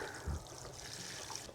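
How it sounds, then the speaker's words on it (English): Rainwater pours onto potting soil in a small garden container, a soft, steady trickle close by with no talking. "So I got me some rainwater, and this water is actually going to settle that soil down."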